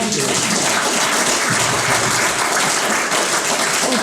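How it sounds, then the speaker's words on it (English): Steady applause from an audience after a talk on relationships in a digital age, dense and continuous at even loudness throughout, with no voices over it. "a big round of applause for Can"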